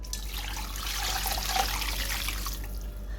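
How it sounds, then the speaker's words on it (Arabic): Water pours steadily into a cooking pot holding chicken pieces, a close, even splashing gush lasting a few seconds with no voices. "وهنزل عليها كمان بايه؟ ب3 كوبايات من الميه"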